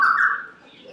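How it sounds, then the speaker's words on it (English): A white-crested laughing thrush calls at an aviary, one short, bright, loud call that fades within the second, heard alone and close. "this is a white-crested laughing thrush at the National Aviary in Pittsburgh"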